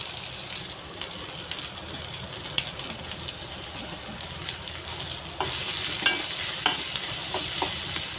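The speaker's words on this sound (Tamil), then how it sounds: "இப்போது நம்ம கட் பண்ணி வச்ச வெங்காயத்தை போட்டுக்கலாம்." Steady hissing sizzle of onions frying in a pan, with occasional stirring scrapes and a louder burst of sizzling partway through.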